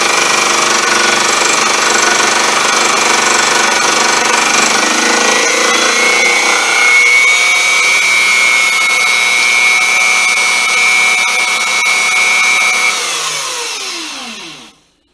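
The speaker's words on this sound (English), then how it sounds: "conventional milling with a fly cutter on a way too small of a machine" A fly cutter milling metal dry, with no coolant, on a small Unimat SL1000 lathe-mill, giving a loud, steady whining, rattling grind that holds for about thirteen seconds before spinning down and fading out.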